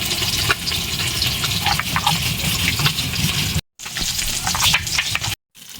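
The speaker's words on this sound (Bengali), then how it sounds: "আমার মাছটা সুন্দর লাল লাল করে ভাজা হয়ে গেছে" Fish frying in hot oil, a dense, close, continuous crackling sizzle with pops throughout and two brief drop-outs near the end.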